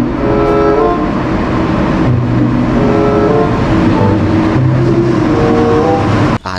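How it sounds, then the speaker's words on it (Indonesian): Orange toy high-speed express train giving a steady, loud mechanical whirring hum with tonal motor whine, continuous for several seconds before cutting off abruptly at the end. "Wow, ini kereta api cepat teman-teman."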